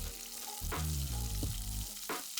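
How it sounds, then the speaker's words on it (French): Chopped vegetables (onions, carrots, peppers, mushrooms) sauté in olive oil, giving a steady close sizzle with a few brief stirring scrapes over a continuous hiss. "Ensuite on fait revenir tout ça dans de l'huile d'olive."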